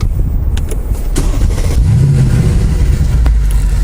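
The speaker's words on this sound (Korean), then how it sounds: "시동을 한번 걸어 보겠습니다" A Mercedes-Benz SLK55 AMG (R172) engine fires up with a loud, close, deep rumble that swells briefly, then settles into a steady idle.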